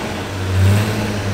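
A Mk4 Toyota Supra turbo engine revs up briefly and settles back, a loud close low rumble with no talking; a possible pre-turbo leak.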